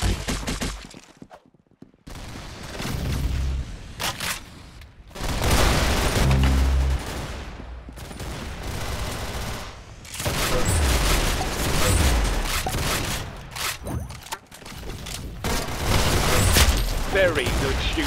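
Gunfire in the Roblox shooter Arsenal, with bursts of rapid shots and mechanical weapon sounds that come and go in loud clusters, separated by brief quieter gaps, with game voice lines over the action.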